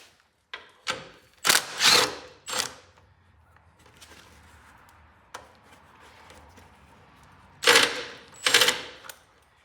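Several sharp metallic ratcheting bursts in quick clusters, with quiet pauses between, close by and fairly loud: a 7/16 wrench loosening a stubborn carriage bolt on a Cub Cadet 1710 lawn tractor steering box.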